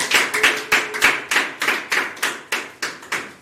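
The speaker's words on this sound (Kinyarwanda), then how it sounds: "Tugukomera amashyi tugushimira." A church congregation claps in a steady, even rhythm of about three beats per second. The sharp hand claps ring close and loud throughout, with no speech over them.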